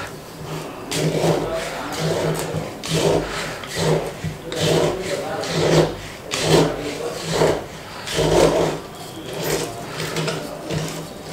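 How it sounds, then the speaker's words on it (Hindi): A coarse sand sample mixed in water inside a container: a continuous gritty rasping and scraping in repeated surges as the large grains are swirled and rubbed, close and moderately loud. "क्योंकि इसमें रेत के थोड़े दाने बड़े हैं जिस वजह से अजीब सी आवाज़ आ रही है"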